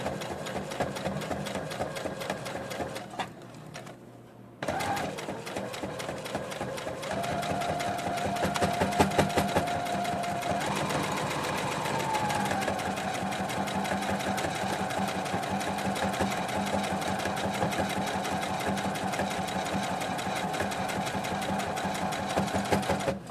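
A sewing machine stitches fabric, beige material near a red piece, in a long, steady, rapid mechanical run. There is one short pause early on, then it runs on without a break, close by and alone.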